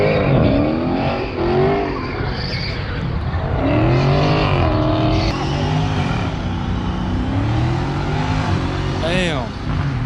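Cars, including Camaros, roaring and revving nearby at a car meet doing burnouts, engines rising and falling with a brief tire squeal, while people talk over the noise throughout.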